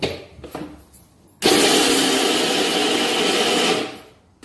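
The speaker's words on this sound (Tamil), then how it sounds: "இதை நம்ம மறுபடியும் குறைன்னு அரைக்கணும்." A mixer grinder runs at full power for about two and a half seconds, coarsely grinding lentils for paruppu usili, a loud steady whir that starts abruptly after faint clatter and winds down near the end.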